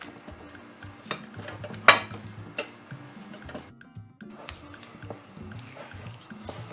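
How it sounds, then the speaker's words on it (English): A spoon stirs flapjack mixture sweetened with golden syrup, working it into a firm dough. There are scraping, knocking strokes against the bowl at an uneven pace, with one sharper clink, all close by and moderately loud. "A bit at a time, and then I'll stir this. Mix it well till you get it like a firm dough."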